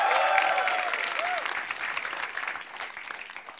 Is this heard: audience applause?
yes